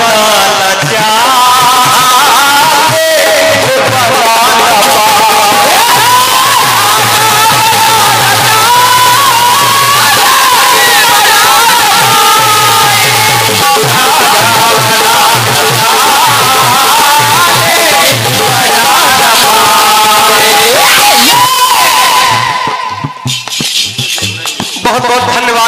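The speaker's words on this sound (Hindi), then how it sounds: "बहुत बहुत धन्यवाद है आपकी तालियों का" An audience at a children's stage performance breaks into loud, sustained applause and cheering with whoops, a dense roar that carries on for over twenty seconds before dropping off abruptly near the end.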